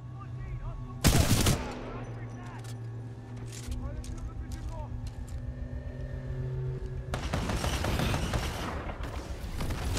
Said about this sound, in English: This DMR really hits. My favorite gun in Titanfall.